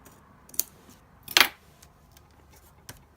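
A few crisp snips of scissors trimming a planner page in a quiet room, one louder cut in the middle and softer ones before and after.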